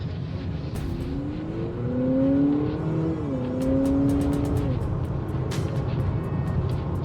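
A 2025 Honda Civic Hybrid pulls away under steady acceleration, a smooth rising motor and engine drone with a continuous road and cabin rumble, heard from inside the car and loud throughout.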